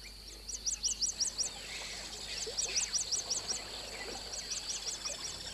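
Birds in the Misiones jungle calling in two quick bursts of rapid, bright repeated chirps over a soft natural hum, moderately near, with a pause between the phrases and no speech.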